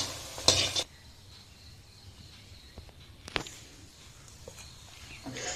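Fried bora fritters lifted out of a pan of oil with a utensil: a short, loud burst of sizzling and scraping early on, then a quiet stretch broken by a sharp metallic clink and more sizzle at the end.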